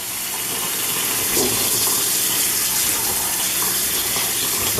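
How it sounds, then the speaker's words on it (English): Steady rushing of cold tap water pouring into a sink, a continuous broadband hiss with no pauses and no voices. "No good way to do this other than turn the water on cold."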